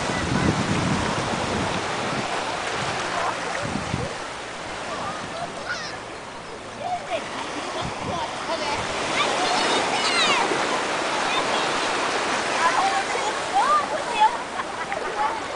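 Waves break on a beach at Praia Brava, a steady broadband surf roar with wind noise on the microphone and people talking over it throughout.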